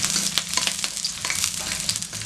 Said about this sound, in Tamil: இது எல்லாமே எண்ணெய்க்குள்ளே போட்டு பொரிச்சிக்கலாம்